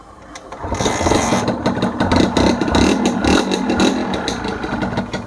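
An original factory-condition Honda NSR motorcycle engine runs close by, with a loud, busy two-stroke idle and choppy revs that carry on steadily throughout.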